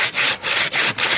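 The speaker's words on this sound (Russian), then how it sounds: "Видите, пилит." A hand saw cuts through a thick tree trunk in freezing taiga forest, with loud, close, rhythmic rasping strokes repeating about every third of a second and no other sounds.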